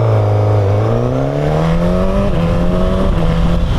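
A Suzuki GSX-S 1000 motorcycle pulls away from a stoplight, its engine note rising loud and close and stepping up through several quick-shifter gear changes with brief dips between rising pulls.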